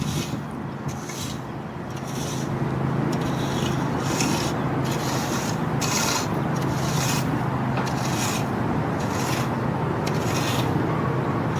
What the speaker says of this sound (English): So now what we'll do is we'll push all that top dressing back that we pushed off initially